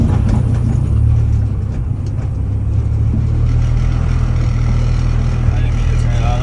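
A Honda F20B engine with a GT35 turbo in a hatchback idling and running: a steady, loud engine rumble throughout, with people talking over it.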